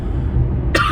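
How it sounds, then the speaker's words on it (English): One short, sharp cough from someone with a scratchy throat during a morning car drive bursts out near the end, loud and close over a steady low rumble of the moving vehicle. "I might cough because my throat is a little scratchy"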